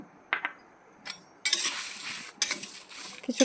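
Whole mustard and fenugreek seeds frying in a pan for raw mango pickle, soft crackle broken by a few sharp metallic clinks and scrapes of a utensil against the pan, close and fairly quiet.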